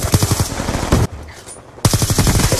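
Automatic gunfire in the game Black Ops 2, two loud, rapid bursts of shots close up, separated by a short near-silent gap.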